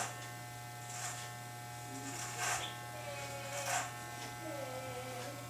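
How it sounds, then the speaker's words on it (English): An electric hair clipper buzzes steadily while it shaves up the side of a head during a home haircut, its steady hum swelling in brief louder passes. "I'm shaving up the side"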